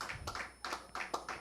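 A church congregation clapping for Jesus, five or six sharp hand claps in an uneven rhythm, fairly close and unaccompanied by speech.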